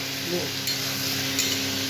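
Onion sizzles in hot oil in a home kitchen pan while being stirred, giving a steady close frying hiss with a couple of scraping stirs.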